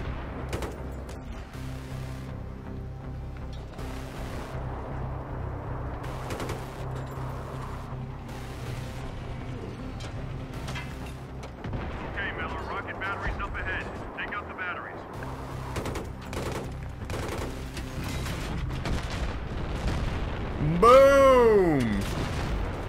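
Battlefield 3 gunfire and artillery booms rolling through a video game battle, with repeated shots and heavy blasts over a steady background rumble and a loud surge near the end, while a player talks.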